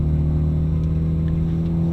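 A Honda Amaze automatic car driving along in D gear, its engine giving a steady, continuous low hum and drone from inside the cabin with no talking.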